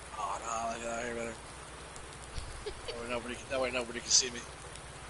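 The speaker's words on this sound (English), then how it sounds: "Hide back here out of the rain." Rain falling in the farming video game Lone Oak makes a steady, soft patter throughout, with someone talking over it for most of the stretch.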